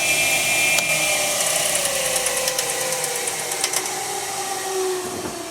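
A 1950s Craftsman table saw built into a workbench runs steadily, giving a continuous close motor whine and blade hum with faint ticking throughout and no speech.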